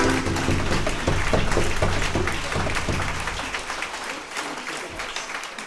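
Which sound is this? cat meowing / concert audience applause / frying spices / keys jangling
concert audience applause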